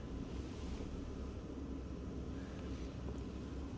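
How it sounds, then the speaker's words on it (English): Exhaust from a Webasto Airtop 2000 diesel heater fitted beneath a Citroen Ami, running with a silencer: a steady, low, broadband rumble and whoosh, constant in level throughout with no talk. "That's the exhaust from underneath."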